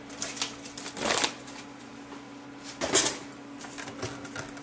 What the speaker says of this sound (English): vacuum sealed bag.